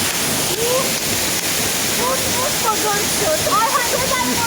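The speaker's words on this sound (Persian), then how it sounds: "ببین ببین این هم آبشار." Nozhatiyeh waterfall pours in a loud, continuous broadband rush, with people speaking and a voice faintly over the roaring water.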